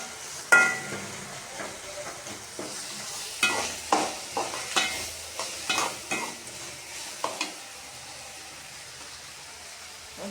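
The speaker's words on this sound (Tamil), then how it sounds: "நல்லா தக்காளியை வதக்கிக்கோங்க ஃப்ரெண்ட்ஸ்." Tomatoes sautéing in a pan for a manathakkali keerai paruppu koottu, with a low sizzle broken by a rhythmic series of spoon scrapes and knocks that ends after several seconds.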